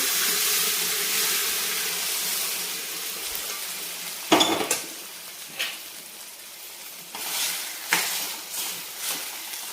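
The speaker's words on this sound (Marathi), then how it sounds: "तर आता लगेच आपण टाकू याच्यामध्ये शिजवून घेतलेलं हे मटण. पूर्ण रस्स्यासहित टाकायचं" Cooked mutton with its gravy goes into a curry pan: a hissing sizzle up front, then a sharp splash and clatter, followed by several softer scrapes and clinks of stirring as the sizzle fades, all close with no talking.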